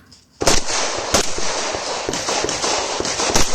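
Gunshots at a USPSA shooting match, a loud outdoor string of closely spaced pistol shots ringing out after a brief quiet start.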